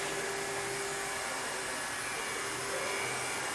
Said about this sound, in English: We can fit sidewalls up to 100mm high using two different styles of hot air welding.